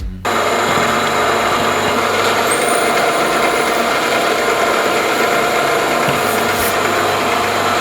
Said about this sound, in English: I've got a reamer in here, and I'm about to ream the two dowel holes